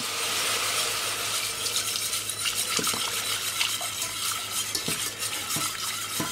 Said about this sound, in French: on fouette bien pour bien tout délayer